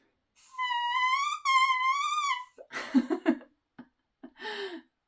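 A voice imitates an oboe reed's single crow, a long buzzy tone that wavers up and down in pitch twice, followed by a few breathy murmurs and short vocal sounds.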